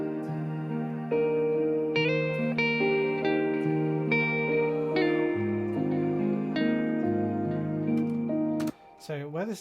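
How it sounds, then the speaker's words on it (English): An unused guitar lead, pitched back down an octave, plays a sustained melodic line with gliding, overlapping notes and soft echo, then stops abruptly near the end before a brief different sound. "So this is a guitar lead that I kind of recorded for the bridge that never got used in the end."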